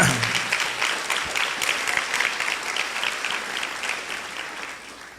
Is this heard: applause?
yes